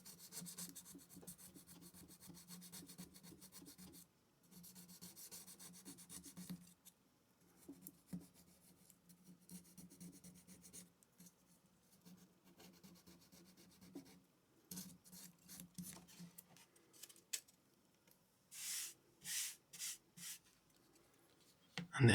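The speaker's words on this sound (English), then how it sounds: "we're just going to scrape off the old flakes again here, the dried on stuff" Dried, flaky thermal paste scraped off the heatsink of an Asus DirectCU Radeon R9 290X graphics card with the edge of a thin metal packet: close, repeated rasping strokes, some short and bursty, with brief pauses between passes.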